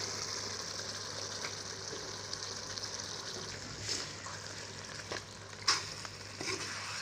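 Meat sizzling steadily in a hot pan with cumin powder for a chicken curry, a continuous close frying crackle with a few sharper pops and stirring clinks near the end, no talk.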